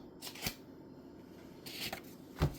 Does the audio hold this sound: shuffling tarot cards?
yes